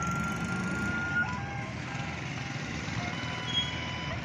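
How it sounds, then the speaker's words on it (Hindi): A fire engine truck idles and rumbles near a petrol fire on a road in Multan, a steady low engine drone with faint tonal beeps over it, no talking. "आग बुझाने वाली गाड़ी आ चुकी है, आग बुझाएगी अब।"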